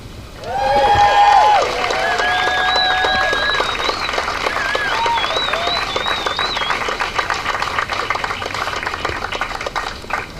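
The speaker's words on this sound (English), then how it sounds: "not a bad applause." Wedding guests burst into loud, sustained applause during the ceremony, dense clapping mixed with high whistles and whoops.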